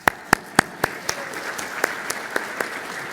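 Scattered applause at a networking conference session: a few sharp, separate claps at first, then sparser, fading clapping from a small audience.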